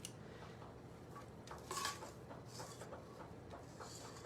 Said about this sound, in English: I'm doing a terrible job of putting these here on the large bar pan